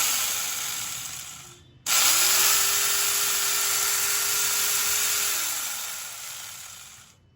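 An angle grinder fitted with a chainsaw adapter switches on abruptly into a loud, steady high-pitched whirring whine, runs for several seconds, then winds down as the motor slows.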